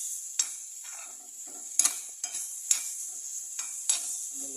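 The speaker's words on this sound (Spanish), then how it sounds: "Ahí va la cebolla y el chile, que se vayan" Onion and chile fry in a pan for a ranch breakfast, a soft steady hiss punctuated by repeated scraping and clinking stirs of a utensil.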